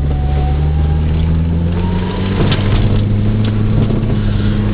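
Car sliding sideways through snow at around 25 mph, its engine droning steadily and close with a low hum, its pitch shifting slightly as the car drifts.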